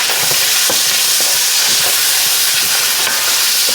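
Onions and garlic fry loudly in a pan, a dense, continuous hiss and sizzle close to the microphone, with faint scattered crackles and no talking.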